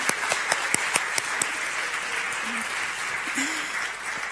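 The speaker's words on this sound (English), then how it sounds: "Please give yourselves a round of applause." Audience applause at the end of a slime-mould group experiment during a talk, a steady wash of clapping with a few sharper individual claps and some voices murmuring underneath.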